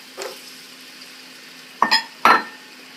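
Chopped onion and celery tipped into a pan of carrots cooking for turkey pot pie: a soft clatter, then two louder scraping, sizzling bursts close by over a quiet hum, with no talking.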